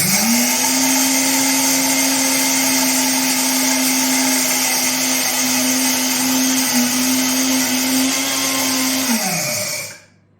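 A mini grinding mill grinding urad dal runs with a loud, steady motor whine and whirring for about nine seconds, then winds down and stops abruptly, close and without speech.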